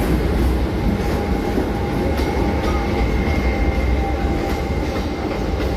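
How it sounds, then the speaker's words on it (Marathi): A Vashi slow local train pulling into a platform at Mumbai's CSMT terminus; loud continuous rumbling and rattling of wheels and carriages close by, with faint clatter and no talk. "आपली वाशी स्लो लोकल अराईव्ह झालेली आहे."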